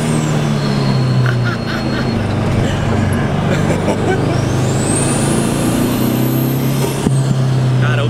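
A turbocharged Volkswagen Beetle engine with a 1.9-litre turbo roars steadily up close, a rising high-pitched turbo whine sweeping upward, then dropping off near the end, under continuous road noise.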